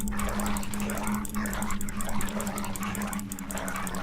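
Dog barking in the Game of Thrones RPG, a steady run of game noise with a constant low hum and bark-like bursts throughout, moderately loud with no speech over it.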